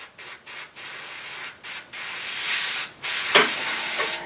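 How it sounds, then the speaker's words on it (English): An airbrush sprays paint at low pressure onto a water-gel anime beach scene model kit, giving a steady hiss in repeated short bursts with brief gaps, then a longer continuous spray. "Just get your airbrush, low PSI"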